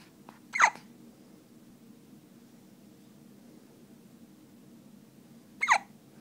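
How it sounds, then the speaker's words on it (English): A small child hiccups twice, about five seconds apart, each a short sharp gulping hiccup heard close by in a quiet room. "You got the hiccups, buddy?"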